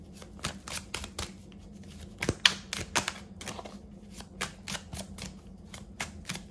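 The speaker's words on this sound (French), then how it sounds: "Allez, on va se prendre une petite carte ici." Tarot cards are shuffled and drawn from a deck, quick papery riffles and snaps in irregular bursts, close and fairly quiet over a faint low hum.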